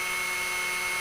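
A power drill whirs steadily through the body panel of a 2020 widebody Scat Pack during a wickerbill install, a continuous close, bright mechanical hiss for the whole second with no pauses or talk.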